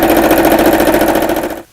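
A fast, steady mechanical whirring with rapid rhythmic stitching pulses from a sewing machine with feed dogs lowered, sewing burlap, running close and loud before stopping abruptly.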